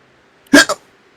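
A single hiccup sound effect, loud and close: one sharp gulping burst followed almost at once by a smaller second pulse, then silence.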